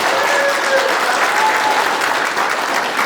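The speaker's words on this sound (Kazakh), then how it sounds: "шапалақ." An audience claps steadily at an anniversary reunion evening in a school hall, a dense, sustained round of applause that holds at an even loudness for the whole stretch, with no voices over it.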